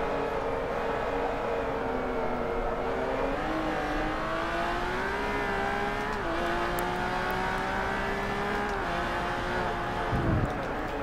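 Race car in Forza Motorsport 3, a loud continuous engine drone that climbs gradually through gears with a short burst of noise near the end.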